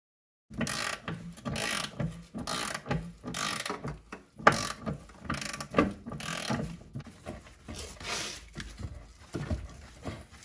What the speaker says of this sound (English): you can see that I'm slowly working the ratchet back and forth